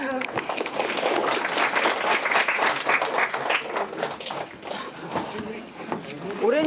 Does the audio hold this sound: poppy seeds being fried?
no